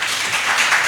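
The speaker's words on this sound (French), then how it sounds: "On applaudit." Applause from an audience at a talk about Malian puppetry, a dense, even patter of many hands clapping that stays steady and moderately loud for about a second, with no voices on top.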